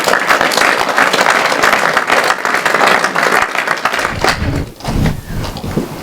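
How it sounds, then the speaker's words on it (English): Audience at an office opening event breaks into loud, sustained applause that fills the room, then thins toward the end as a voice begins over the last scattered claps. "all of you here today should give yourself a round of applause for that contribution to UK PLC"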